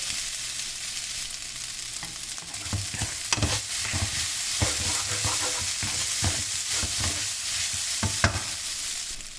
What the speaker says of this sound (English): I'm going to start stir frying this around now